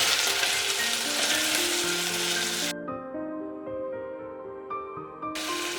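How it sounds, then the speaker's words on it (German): Tomatoes sizzle and bubble in a pan while simmering for a paneer curry, a steady close frying hiss with soft stirring that briefly quiets midway. "Und wieder für ein paar Minuten gut köcheln lassen."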